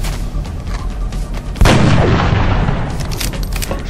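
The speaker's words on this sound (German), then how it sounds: "Und macht dann hier so einen Präzisionsschuss." A single loud gunshot from the game XCOM: Enemy Unknown booms out suddenly amid busy game noise, followed by a lingering rumble and scattered background effects.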